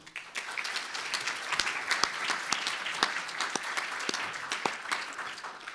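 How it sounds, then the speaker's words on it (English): Applause at a Dublin Citizens' Assembly for presenting academics from Dublin City University and University of Limerick. A modest audience claps steadily for several seconds, with individual sharp claps standing out against a fairly close, even patter. "A round of applause, please."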